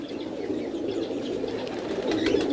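Highflyer pigeons coo softly in their loft, a low continuous murmuring with faint chirps and occasional wing sounds, no voices over it.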